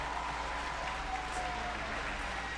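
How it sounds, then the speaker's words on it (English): A crowd watching the Inspiration 4 SpaceX rocket launch claps from a distance, a faint, soft patter of hands beneath a steady low hum and thin tones. "Oh god, they're all clapping."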